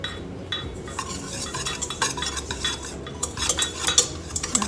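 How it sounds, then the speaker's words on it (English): Salt, xanthan gum and baking powder being whisked together for keto doughnuts, giving a steady close rattling and scraping of a whisk against a bowl that grows busier and louder toward the end. "the salt with the Xanthan gum and the baking powder. And we're gonna mix them with a whisk."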